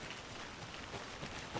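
Rain falling in the video game Alan Wake 2, a faint, steady hiss of drops alone.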